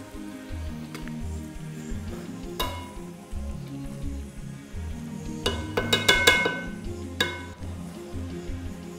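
Chicken stir fry sizzles in a wok as it is stirred, with a low continuous frying crackle and a cluster of sharp metallic scrapes and clicks from the utensil partway through.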